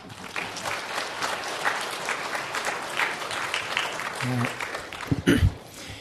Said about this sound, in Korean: 우리 축복과 격려의 박수로 모시겠습니다.